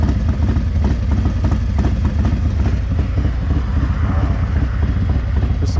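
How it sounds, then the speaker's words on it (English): A Harley-Davidson Road Glide with a Milwaukee 8 engine, S&S 475 cam and Bassani mid-length exhaust idles close by with a loud, steady, low rumbling pulse throughout. "Just a nice little low rumble here at idle."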